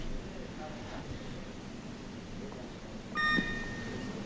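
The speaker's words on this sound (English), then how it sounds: "Well, there's the 30-second buzzer." A short electronic buzzer tone at a 2005 world weightlifting competition, men's 105 kg snatch, sounds clearly but briefly over steady crowd murmur and commentary near the end.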